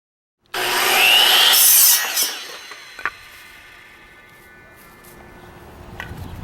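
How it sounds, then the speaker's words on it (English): A power saw cuts through a wooden cross stud for a halfpipe frame in a loud, close, bright burst lasting over a second, followed by a knock and quieter handling noises. "Measure and cut each cross stud individually and evenly place 3 studs per section."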